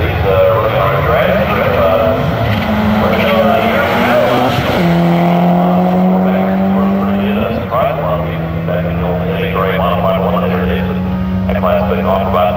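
A VW GTI front-wheel-drive car launches down a quarter-mile drag strip in Orlando, its engine climbing in pitch through sharp gear shifts, loud and sustained over a constant crowd and track roar with voices talking throughout.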